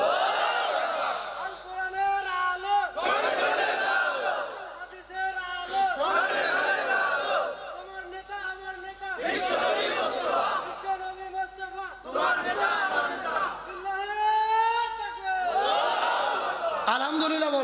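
A crowd gathered around an Eid prayer gathering repeatedly chants the takbir in loud unison, several swelling call-and-response rounds separated by brief pauses.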